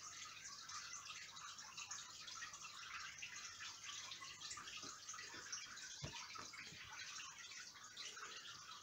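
An old Eheim 2213 canister filter, made in Germany, pumps water back into a roughly 50-litre aquarium during a water change, giving a steady close hiss of splashing and gurgling water with a few soft drips and no talk.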